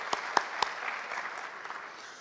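A conference audience at a college plenary session applauds committee members, a few sharp, distinct claps up front followed by a softer, fading wash of clapping.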